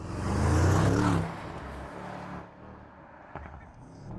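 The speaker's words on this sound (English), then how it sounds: "That launch control is crazy." A 2024 Mercedes-AMG S63 luxury saloon launches hard under launch control: a loud, deep surge of engine and rushing noise in the first second, easing into a lower, steady drone as it pulls away.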